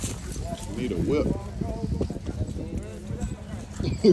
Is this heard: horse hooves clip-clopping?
yes